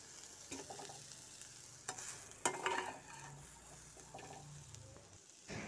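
Soybean chunks fry in a pan, a faint soft sizzle broken by a few scraping stirs and light utensil clinks, with no talking.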